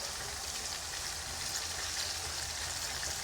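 Minced lamb and onions fry in a pan with a steady, even sizzle and crackle that runs close and fairly quiet throughout, with no voices.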